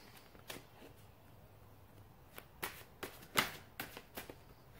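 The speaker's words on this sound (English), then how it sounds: "Let's get a few more cards out here for your advice" Tarot cards are shuffled and drawn in a quiet room, giving a series of soft, sharp riffling flicks and snaps spread irregularly over a few seconds, faint and close, with no talking.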